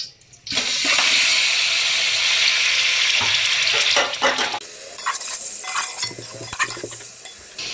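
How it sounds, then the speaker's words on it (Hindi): One kilogram of chicken browns in a cup of ghee, a loud, continuous close sizzle and crackle with stirring scrapes and clatter, the hiss easing slightly toward the end. "1 किलो जो चिकन है हम इसमें ऐड करेंगे, इसे लाइट ब्राउन करेंगे सबसे पहले"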